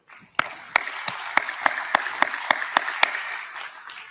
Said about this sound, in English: loud round of applause to them.